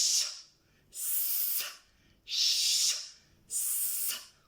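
A voice imitates a snake's hiss: four long, breathy hisses, each lasting about a second, separated by short pauses, close and fairly loud.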